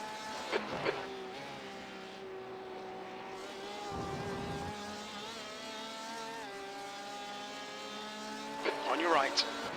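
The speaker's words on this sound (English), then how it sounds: "There's a group of faster cars bearing down on you." Race cars in the iRacing sim during the Petit Le Mans 10-hour endurance race, steady engine drone with shifting pitch as a group of faster cars closes in, under a spotter's voice.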